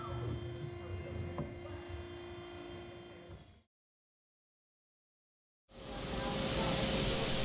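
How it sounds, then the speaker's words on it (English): An automated bandsaw cuts tool steel rod into blanks for molding heads. A steady buzzing machine noise runs for several seconds, stops into about two seconds of silence, then returns louder and brighter. "Each blank is cut using an automated bandsaw, which then advances the rod exactly the right distance for the next cut."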